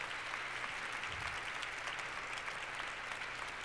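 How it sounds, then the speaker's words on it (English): An audience applauds at the 2010 National Council for Research on Women awards dinner, a steady, dense wash of clapping filling the room without a pause. "We could get a round of applause tonight."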